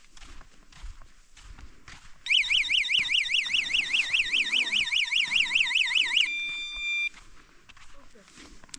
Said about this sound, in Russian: сигнализация. Давай проверим.